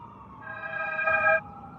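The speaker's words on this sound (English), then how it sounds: "Siren out there." A siren wails with steady harmonic tones that swell louder toward the end, then cut off abruptly, over a low background rumble.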